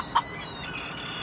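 A single short, bright cluck from a bantam chicken near the start, then a faint steady background hiss with no further calls.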